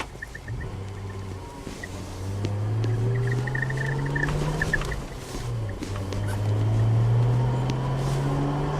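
A Toyota Mark II Tourer-V with a stock clutch and five-speed gearbox drives along. Its engine hums steadily from inside the cabin and rises and settles with the gear changes, and nobody talks.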